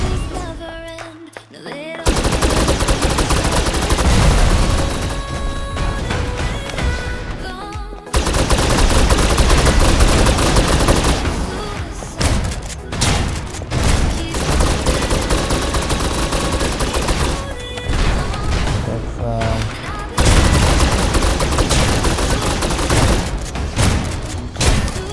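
Rapid automatic gunfire in the shooter game Snowbreak: Containment Zone, long sustained bursts separated by short pauses, loud and close.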